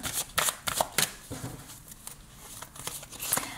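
Tarot cards being shuffled by hand for a reading, a run of crisp riffling bursts and soft papery patter, close and fairly quiet, with a brief pause before more shuffling at the end.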